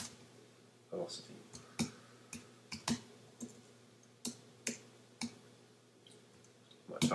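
Sharp, separate key clicks tapped out at an irregular pace on a computer keyboard while programming, close and fairly quiet over a low electrical hum.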